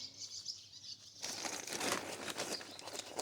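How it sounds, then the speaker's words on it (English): Small birds flutter around an outdoor garden of planted containers, with a burst of close wing flapping and rustling that starts partway through and continues over a quiet background. "all the little birds out here tripping around"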